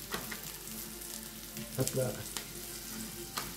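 Food frying in butter in a pan, a steady broadband sizzle throughout with a brief louder burst of crackle as pieces are turned; a person says a couple of short words over the cooking.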